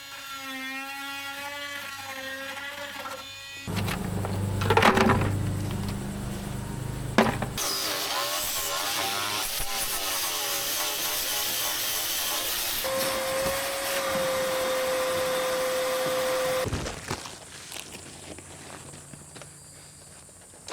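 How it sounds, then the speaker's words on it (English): Power tools grind out and clean up damaged material on a boat. The sections are loud and whining, with a steady tonal whir in the middle and a sharp pause between bursts. Nobody speaks. "But let's get to grinding all this stuff out and cleaning it up."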